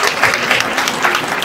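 Audience applause at an awards ceremony in Montréal, a dense steady wash of clapping from a crowd for the full stretch with no speech over it.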